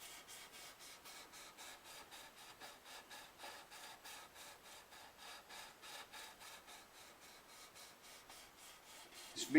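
Sandpaper rubbed in steady, regular back-and-forth strokes along a worn violin fingerboard during repair work, a soft rhythmic scratching heard close up and alone.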